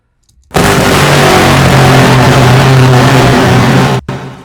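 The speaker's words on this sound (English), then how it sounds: "It started as the sample of an engine noise, and what I did is I did the EQs like usual. I added a reverb to make it larger in scale" A heavily processed engine noise sample, equalized and drenched in reverb to sound huge, bursts in suddenly and roars as a loud, dense sustained rumble before cutting off abruptly with a short reverberant tail.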